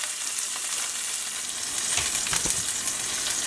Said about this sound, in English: Okay, just going to let that fry for a little bit.